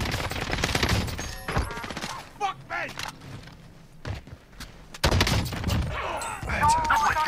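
Gunfire in Call of Duty Warzone comes in loud bursts of rapid shots, then brief lulls with scattered single shots and movement, before heavy firing resumes close by.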